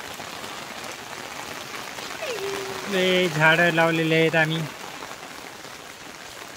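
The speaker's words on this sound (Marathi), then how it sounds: "खूप मोठा असा पाऊस पडत आहे खूप दिवसानंतर" Heavy rain pours steadily across a village yard, a constant broadband hiss throughout, with a person talking over it partway through.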